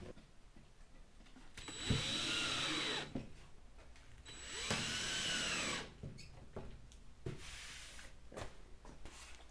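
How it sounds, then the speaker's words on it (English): A power drill drives screws into the ridge cap of a small weather-resistant rabbit hutch, two loud whirring bursts of about a second each with a pause between, followed by lighter knocks and handling sounds. "screw our ridge cap down"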